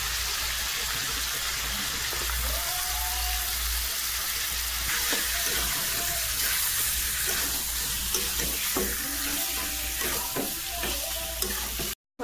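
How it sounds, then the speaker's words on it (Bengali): Chicken pieces frying in a pan with onion and garlic give a steady, close sizzle, with occasional soft clinks and stirring scrapes throughout, ending abruptly. "আমি পেঁয়াজের মধ্যে পেঁয়াজ রসুন ভাজার মধ্যে মাংসটা তুলে দিলাম"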